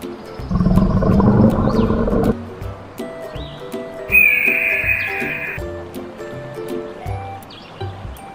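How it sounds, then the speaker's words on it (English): An eagle cry in a children's animal animation: a sharp, high whistling screech rising after a loud roaring burst, standing out clearly over soft background music. "Eagle."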